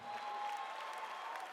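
Audience at a comedy special clapping steadily, a dense wash of applause with a little crowd noise, moderately loud and continuous throughout.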